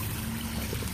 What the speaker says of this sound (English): I cleaned out the filters that pump the water to the top pond here.